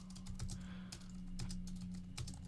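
Quick, close clatter of typing on a computer keyboard while coding, with irregular bursts of keystrokes over a low steady hum.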